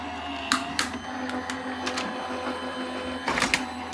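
A Gemini Junior die cutting machine runs with a steady mechanical whir, a clear cutting plate and die fed through it, punctuated by a few sharp clicks and clacks near the start and end.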